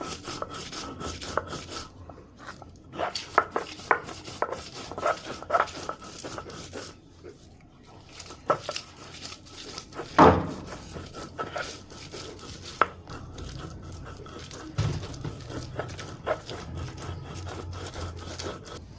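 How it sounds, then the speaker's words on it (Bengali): Spices ground by hand on a stone grinding slab (shil-pata), a repeated scraping and rubbing of stone on stone with an irregular rhythm, close by and moderately loud, with a sharper knock near the middle. "এখন আমি এগুলোকে ভালো করে শিলপাটায় বেটে নেব। প্রথমে মশলাগুলো বেটে নেব"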